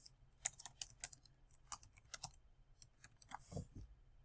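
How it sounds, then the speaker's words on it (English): Quiet clicks and taps on a computer mouse and keyboard while entering dimension values into a parametric CAD model, coming in irregular light bursts close by, with no talk. "I'm clicking, and that's how I'm entering into the next box"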